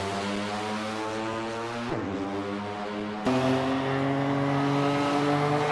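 A rally car drives hard on a stage at Rally Porec, Eastern European Rally Championship. The engine drones loudly and steadily, with a brief dip and a shift before the revs climb again, and no voices are heard.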